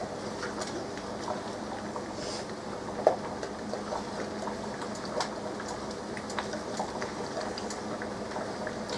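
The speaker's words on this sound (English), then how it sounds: "we're going to let that come back to a boil, and we're going to boil it for a minute" Strawberry jam made with Certo pectin bubbles in a pot at a rolling boil, a steady, low bubbling churn with occasional soft pops, close and continuous, with no talking.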